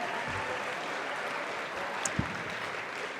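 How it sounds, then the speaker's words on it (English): A dinner event audience claps steadily, producing a continuous wash of applause at moderate volume with no voices over it. "one more quick round of applause for those dancers from our Pasco Clubhouse"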